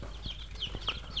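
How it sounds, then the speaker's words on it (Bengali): Two-day-old tiger chicken chicks peep in a farm brooder, with a rhythmic series of thin, high chirps at moderate volume, a few dull knocks underneath, and no one talking. "আমার কিছু টাইগার মুরগির বাচ্চা ফুটেছে"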